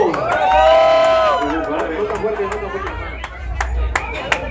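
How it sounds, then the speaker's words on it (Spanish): A crowd cheers and claps during a marriage proposal at Xochimilco, with a raised voice and some chatter riding over a steady, fairly loud mix of hand claps and shouts. "Compadre, para que se anime, compadre, fuerte el aplauso."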